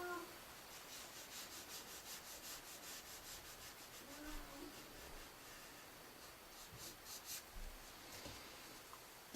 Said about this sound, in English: I could come in with my tortillon. I'm not going to press too hard.